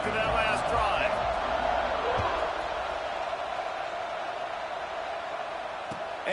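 A stadium crowd in a college football video game, Florida against Michigan, roars loudly at a kickoff, the cheering swelling at first and then fading to a steady murmur, with a few thuds and a sustained tone over it.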